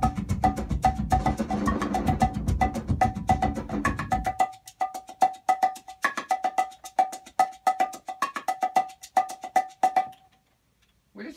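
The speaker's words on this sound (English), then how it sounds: "I saw these little clay hand drums that I bought at a flea market probably like 5 or 6 years ago. And they're really high pitched." Small high-pitched clay hand drums are tapped in quick, bright, dry hits, first over a dense rumbling bed of sound, then alone in a sparse rhythmic pattern that stops near the end.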